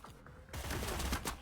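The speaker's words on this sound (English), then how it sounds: "Of course, we made some gunfire." Gunfire in the tactical video game Cyber Knights: Flashpoint: a quiet lead-in, then a dense burst of rapid shots from about halfway through, loud and continuous to the end, with no talking.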